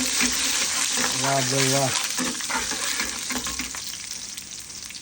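Garlic dropped into hot oil in a pan at a roadside dhaba, frying with a loud steady sizzle throughout while someone speaks briefly over it.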